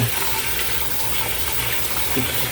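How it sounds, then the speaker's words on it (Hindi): Cold water gushes steadily from a tap over boiled pasta in a kitchen, a loud, close, continuous splashing rush with no talking. "तो इस पे थोड़ा ठंडा पानी डाल के इसको अच्छे से"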